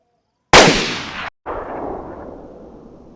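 Two loud gunshots from a DayZ game firefight at a gas station, a sharp blast followed a beat later by a second crack with a long echoing tail.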